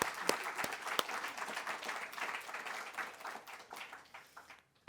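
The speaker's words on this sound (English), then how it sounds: "So can we just give a round of applause to all of our speakers and all of you for spending a day talking about email." Symposium audience applauding its speakers at an email-archiving event in Wellington, a steady wash of many hands clapping that carries on for several seconds, then drops away abruptly near the end.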